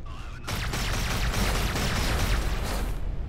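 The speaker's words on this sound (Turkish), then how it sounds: "Patlama efekti çok kötü olmuş bak" A spaceship blows up in the space combat game Everspace 2, a broad, loud roaring blast with crackling debris that bursts in after a brief quiet start and sustains to the end.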